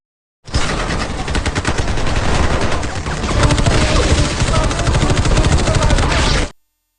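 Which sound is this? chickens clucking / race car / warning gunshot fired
warning gunshot fired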